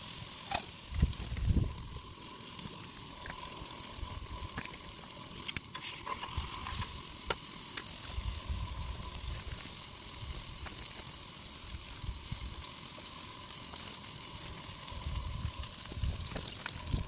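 Steak cooks at a campsite in a park during high winds, sizzling steadily and fairly loud throughout, with scattered pops and crackles and a faint watery hiss mixed in.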